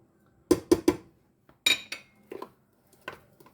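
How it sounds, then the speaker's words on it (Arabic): Spoon clinking against a pot while mixing spices and sugar, a quick triple tap followed by scattered scraping knocks, close and without talk. "هنقلب كله مع بعضه كده"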